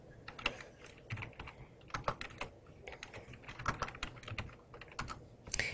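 Typing on a computer keyboard while entering data in Microsoft Excel 2010: quiet, fast, irregular key clicks in bursts, close and soft, with no voices.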